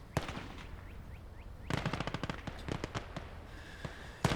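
Machine gun fire in the WWII strategy game Gates of Hell: rapid bursts of sharp gunshots ripple through the middle, with sparser single shots and distant battlefield booms before and after.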